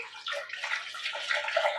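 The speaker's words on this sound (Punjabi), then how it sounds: "ਹੁਣ ਆਪਾਂ ਇਹਦੇ ਵਿੱਚ ਪਾ ਦਾਂਗੇ ਪਾਣੀ ਪਾਣੀ ਦੇ ਆਪਾਂ ਨੂੰ ਹੋਰ ਲੋੜ ਪਊਗੀ ਹੋਰ ਪਾ ਦਈਏ" Water is poured into a pan of frying turmeric tempering for egg curry, a steady splashing, rushing pour lasting nearly two seconds, close and clear with no talk over it.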